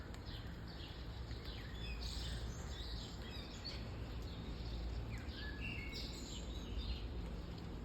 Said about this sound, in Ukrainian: Тихо шумить дощик, птахи виспівують.